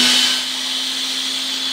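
The vacuum motor of a Tennant 5680 floor scrubber runs at full power, a loud, steady whining roar with a constant hum underneath and no talking.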